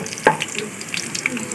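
Browned onions sizzling in a pan for chicken nihari, a steady close frying hiss with a few small clinks and stirring taps scattered through it; no talking.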